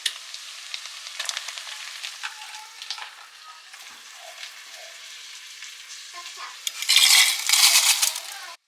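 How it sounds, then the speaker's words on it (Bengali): Chicken pieces sizzle in hot oil with ginger garlic paste and whole spices for chicken pulao, a close crackling fry punctuated by metal spoon clinks and scraping against the pot, with a louder burst of sizzle near the end. "ভাজা হয়ে গেলে জিঞ্জার গার্লিক পেস্ট অ্যাড করছি, একটু নাড়াচাড়া করে চিকেন অ্যাড করছি।"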